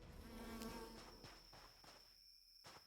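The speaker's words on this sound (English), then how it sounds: "what the fuck, bees?" Insect buzzing in the open-world farming and crafting video game Swords 'n Magic and Stuff, a steady droning hum with a few sharper bursts, close and fairly quiet throughout.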